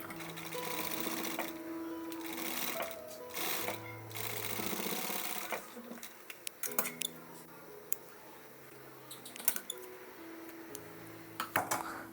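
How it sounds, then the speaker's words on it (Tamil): A sewing machine stitches blouse fabric in bursts of rapid whirring, with pauses between runs and scattered clicks and ticks of fabric handling, close up, with no voices. "மிஷினில் தைக்கணும் அப்படின்னாலும் இந்த மாதிரி வச்சு நம்ம மிஷினில் தைச்சிடலாம்."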